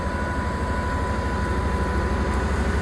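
A slow-running freight train hauled by a GBRf Class 66 diesel locomotive rumbles steadily and loudly past a level crossing while braking, a continuous low roar with a faint sustained brake squeal over it.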